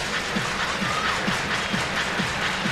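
A baseball stadium crowd claps in a steady, rhythmic beat, roughly twice per second, over a constant roar of distant cheering, with no one talking.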